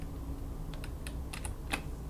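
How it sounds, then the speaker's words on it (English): A few quiet keystrokes on a computer keyboard, a Shift-P shortcut press, with soft scattered clicks over a low steady background hiss. "you can on your keyboard hit Shift-P"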